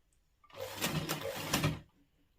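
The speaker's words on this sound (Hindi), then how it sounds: "इसे हमने सिलना शुरू किया और साथ ही इसमें एक साथ 3 या 4 प्लेट्स डाल ली" A sewing machine runs in a short burst of about a second and a half, stitching a pleated frill with a rapid, rhythmic mechanical whir that starts and stops abruptly.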